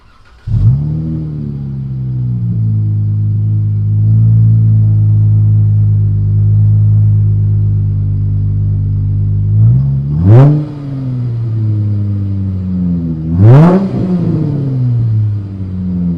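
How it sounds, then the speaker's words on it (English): A Chrysler 300 engine, still warm, starts and settles into a deep steady idle, then blips twice in quick sharp revs that spike and fall back, loud and close with no talking. "I'm gonna be doing some revs for you. I'm gonna do a low rev, medium rev, and then high rev."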